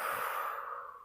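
A slow, steady exhale during a gentle yoga recovery session: a single soft, breathy whoosh close to the microphone that fades over about a second, with no talking.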